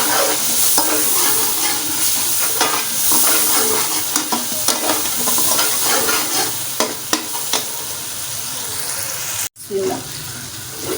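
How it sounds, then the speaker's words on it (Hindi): Garlic, onion and ginger paste fries in a pan with a steady close sizzle and repeated scraping stirs, a brief dropout near the end, while a voice talks faintly underneath. "लहसुन, प्याज और अदरक का पेस्ट जो मैंने बनाया था, इसको भी फ्राई कर लेना, भून लेना"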